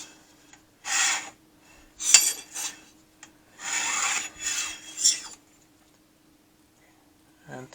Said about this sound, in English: So now I'm going to scribe it in the areas that are relevant.